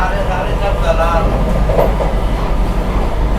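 Inside a Vande Bharat Express running from Nagpur to Pune while it overtakes an Intercity Express waiting on a bypass line at Kotamba junction, a steady loud rail rumble with clickety-clack and a brief squeal carries on throughout.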